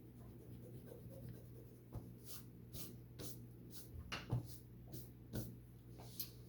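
An eraser rubs pencil lines off paper on an art project, a series of soft brisk strokes in irregular bursts, quiet and close, over a steady low hum.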